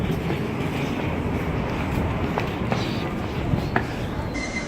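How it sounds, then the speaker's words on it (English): A train on the Hong Kong rail line near Fanling rolls along and slows toward a stop, with a steady rumbling wash and faint clicks and thumps close by, and voices murmuring in the background. "As our train comes to a stop,"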